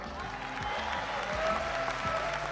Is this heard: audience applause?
yes